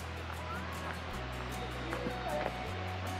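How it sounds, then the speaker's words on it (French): A river flows at a quiet spot reached by small country roads, its steady broadband rush continuing evenly throughout with no clear voices over it. "Oh là là, le son de la rivière, c'est juste génial"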